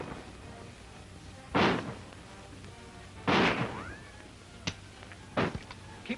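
Gunshots in a 1938 western shootout, several sharp, loud cracks spaced a second or two apart over a low background hiss, one followed by a falling ricochet-like whine.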